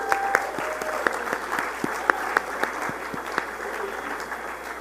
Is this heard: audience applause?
yes